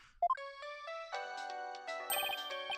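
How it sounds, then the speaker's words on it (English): Ringtone of a phone call in the Ace Attorney Dual Destinies video game: a bright, clear electronic melody of stepped tones, starting after a short rising blip and growing fuller and louder toward the end, with no talk. "You hear his ringtone?"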